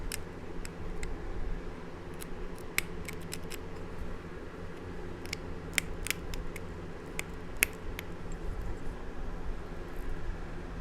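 Sharp stone-on-stone clicks and ticks from flintknapping, trimming the edge of a river rock, come as scattered, irregular taps over a steady low background hum, fairly close and moderate in level.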